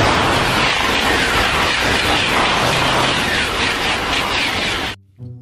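A toy high-speed train sound effect, a loud, dense rushing roar that holds steady before stopping abruptly, close-up and without voices.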